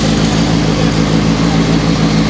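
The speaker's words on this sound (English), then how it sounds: "This is a 500 TRC idling warming up" A Ferrari 500 TRC sports car engine idles steadily while warming up up close at the Goodwood Festival of Speed, a loud, deep, even rumble that holds constant throughout with no revving.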